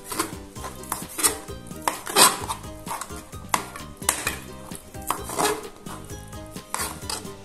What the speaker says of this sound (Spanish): lo voy a hacer con el cuchillo